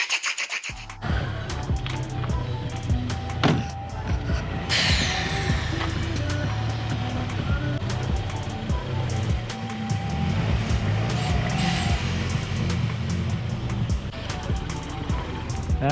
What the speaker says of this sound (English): Why is your car sneezing so much?